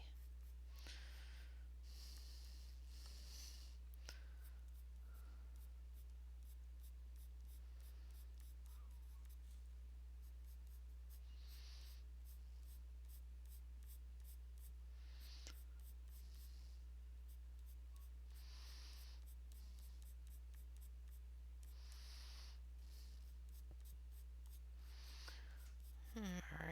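Coloured pencil flicking across paper in short, faint scratchy strokes, repeated in clusters with quiet pauses between them over a steady low hum.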